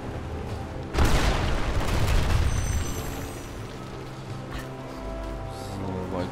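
A bomb explosion in the video game Lara Croft and the Temple of Osiris: a sudden loud blast about a second in, then a long rumbling decay beneath steady game ambience, with a smaller thud later.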